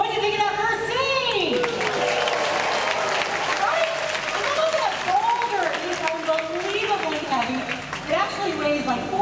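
An audience at the nighttime Indiana Jones stunt show at Disney's Hollywood Studios claps and cheers in sustained applause, with an announcer talking loudly over the crowd throughout.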